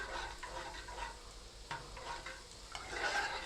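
Lasagna sauce being stirred in a pot, a faint scraping and swishing of a spoon with a soft sizzle underneath, several irregular strokes over a few seconds, no talking.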